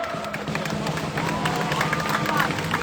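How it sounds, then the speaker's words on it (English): A crowd at a Free Palestine rally claps and cheers in a dense, steady patter, with some murmuring voices mixed in. "big round of applause."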